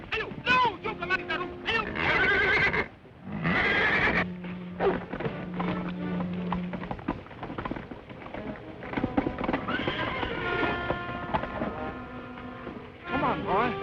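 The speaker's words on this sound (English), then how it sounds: "The horse is a worthy gift to your highness." A horse presented as a gift in a 1930s adventure film whinnies amid hoof clip-clops, with speech and a music score running over the scene throughout.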